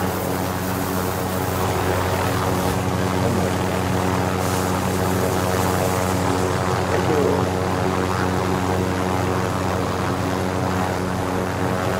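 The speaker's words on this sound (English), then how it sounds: "Get in the helicopter." Helicopter rotor and engine drone in the Call of Duty Warzone video game, a steady, loud, continuous thrum with layered harmonic hum that holds throughout without a break.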